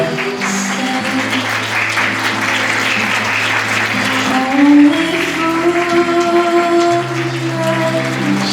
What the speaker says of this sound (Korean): 오늘 아름다운 신부에게 뜨거운 박수와 함성을 보내주시면 감사하겠습니다